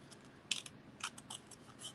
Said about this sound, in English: It's hard to talk and cut at the same time